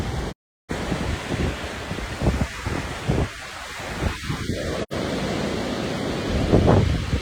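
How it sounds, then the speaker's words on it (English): Ocean waves wash steadily onto a beach on a weekday walk, with gentle, low surf. The wash is a constant broadband roar with some wind buffeting the microphone and no voices. "The waves are not too high today"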